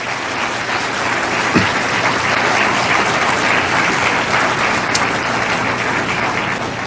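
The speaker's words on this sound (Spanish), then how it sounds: "Y eso merece un aplauso al Señor." A church congregation breaks into sustained applause, loud dense clapping from many hands that fills the whole span evenly, with no voices rising above it.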